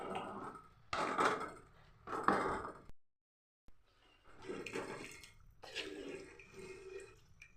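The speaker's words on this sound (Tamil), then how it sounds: "இனிமேல் நமக்கு தேவையான அளவு தண்ணி ஊற்றிக்கணும்" Water is poured into a pot of chicken curry in several splashing, gurgling bursts, close and fairly loud, with a short silent pause midway before more pouring.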